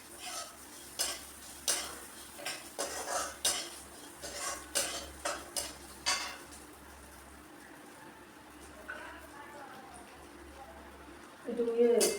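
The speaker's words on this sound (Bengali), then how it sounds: "এই মুগের ডাল ভেজে, মুগের ডাল মিষ্টি মিষ্টি করে একটু" Moong dal roasting in a pan, a faint sizzle under rhythmic spoon scrapes and clinks against the metal in the first half, then quieter stirring, with a low steady hum and a louder clatter at the end.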